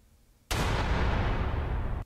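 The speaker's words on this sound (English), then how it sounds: "Let me explode you. I'll cut to your explosion." A sudden loud explosion bursts in the video game Doors, a sharp onset after near silence followed by a sustained roaring blast that fills the rest of the moment.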